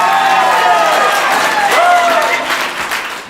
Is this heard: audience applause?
yes